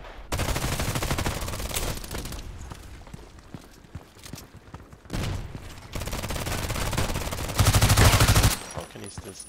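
PDR-C submachine gun firing in Contract Wars on the Bay 5 map, several rapid automatic bursts with short gaps between them, loud and close, the final burst heaviest.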